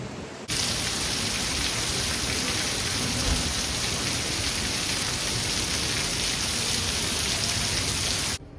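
Steady heavy rain pours down as a dense, constant hiss that starts abruptly, stays loud throughout, then cuts off at the end.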